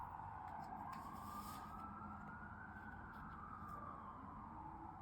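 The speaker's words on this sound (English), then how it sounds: "I live in New York City and there's an ambulance, of course, going by." An ambulance siren wails in a slow rising and falling tone as it passes along a New York City street, faint and muffled from indoors over low city hum.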